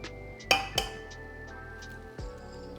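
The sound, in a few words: eggs being cracked into a bowl of cheese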